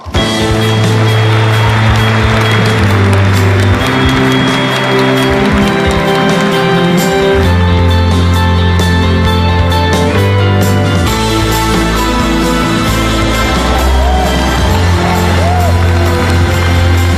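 A large crowd at Jack Ma's entrance in Detroit, loud continuous cheering, whoops and applause filling the room, with a voice speaking over the noise.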